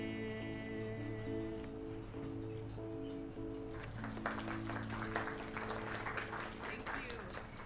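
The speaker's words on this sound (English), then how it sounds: "They clapped before they knew for sure that it was over." An audience bursts into applause about halfway through, a dense patter of many hands clapping that rises over sustained music tones and continues to the end.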